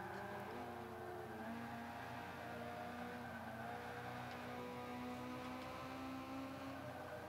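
Race car engine in Forza Motorsport 5 during a C class race, holding a steady droning whine with slight pitch shifts as it runs, continuous and moderately loud from start to finish.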